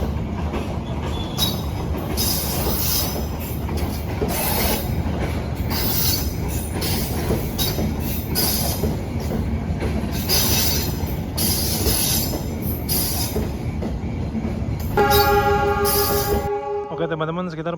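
Argo Sindoro passenger train rolling past on Indonesian rails, a loud sustained rumble with wheel clatter and high squealing, ending in a brief horn blast; a voice talks over it.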